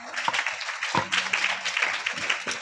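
Applause from an audience at a motivational seminar held in a school, a short, fairly dense burst of clapping with a few sharper claps standing out, followed by a faint tonal murmur beneath.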